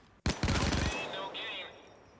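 A video game weapon fires a rapid burst of loud gunshots in quick succession, close and punchy. A ringing echo follows, then a whooshing tail that fades out.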